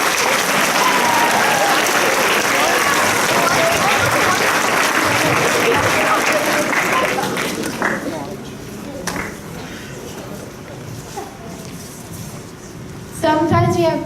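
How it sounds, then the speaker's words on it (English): A school assembly audience applauds volunteers with loud, dense clapping that holds for about seven seconds, then thins into scattered claps and murmurs before a brief final burst. "We need a round of applause for our volunteers"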